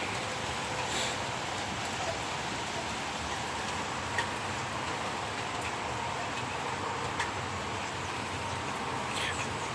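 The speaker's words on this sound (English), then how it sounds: "And it's been raining all morning" Rain falling steadily on a morning outdoors, a soft continuous hiss with a few faint ticks of drops, fairly quiet and unbroken throughout.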